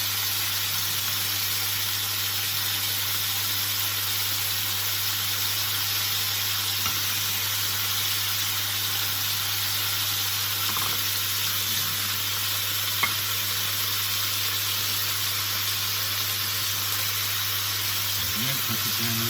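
Asian-style chicken thighs searing in a hot pan, a loud, continuous sizzle and crackle under a steady low hum, with a voice briefly audible.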